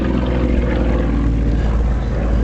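A propeller aerobatic airplane at an air show drones steadily overhead, a loud continuous engine and prop roar with no breaks.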